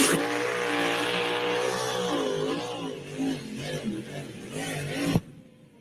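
Supercharged Minor Brothers Racing Hemi with a 14-71 blower in a pulling tractor at the Nebraska State Fair roars loud and sustained, pitch wavering as it strains, then cuts off abruptly near the end, leaving faint crowd noise.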